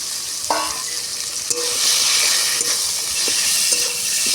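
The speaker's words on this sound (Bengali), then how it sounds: "মাংসটাকে ভালো করে আমি মিশিয়ে নিচ্ছি" Minced chicken being stirred in a hot pan for chicken momo filling, with steady frying sizzle and a few light scraping knocks of a spoon against the pan.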